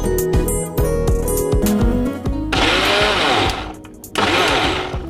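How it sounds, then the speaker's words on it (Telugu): An electric mixer grinder in an Indian kitchen grinds rice batter into a paste, its motor whining loudly and steadily, with the pitch shifting as the load changes and a harsher roar in the second half. "మిక్సీ పట్టేద్దామా?"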